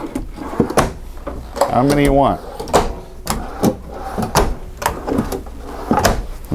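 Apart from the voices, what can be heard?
drawers opening and closing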